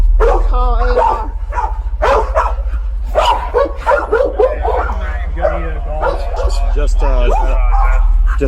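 Several loose dogs in a neighborhood bark, yip and whimper in rapid repeated bursts close by, over a constant low hum. Voices talk over and between the barking.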